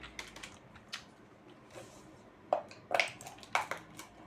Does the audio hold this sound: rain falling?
no